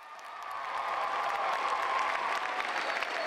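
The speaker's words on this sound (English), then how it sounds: "Clap for them." Warm applause rises from the audience at a year-end dance recital for graduating eighth-grade dancers, swelling within the first half second and then holding steady and full.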